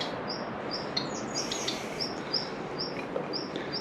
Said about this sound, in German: Irgendwelche Vögel fliegen umeinander.